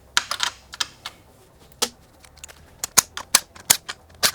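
A 10mm socket wrench loosening the rear fender nuts on a 2021+ Yamaha MT-09: crisp, irregular metallic clicks in short clusters, close and distinct against a quiet background.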